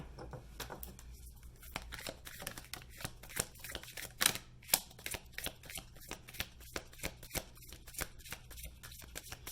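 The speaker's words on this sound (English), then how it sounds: "We'll shuffle one more time." Cards riffle and snap through repeated quick shuffles during a tarot-style card reading, close and crisp, with rhythmic bursts of flicking over a soft background hum.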